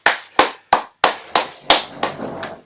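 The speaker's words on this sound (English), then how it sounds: "Give yourself a clap." Seven sharp hand claps, evenly paced and close, each ringing briefly in a room at the end of a home self-isolation workout session.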